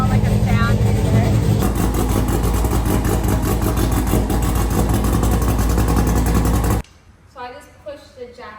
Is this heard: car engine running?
yes